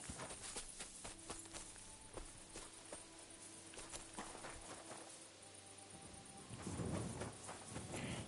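Horses in Kingdom Come: Deliverance II clip-clop at a walk, a steady run of hoof beats over constant in-game ambience, followed by a brief louder rumble near the end.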